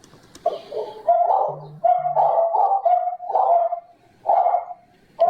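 Dogs bark in repeated, loud bursts with pauses between them, close by, mixed with a low cooing sound early on.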